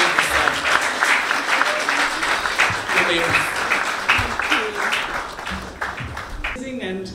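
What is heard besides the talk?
audience applause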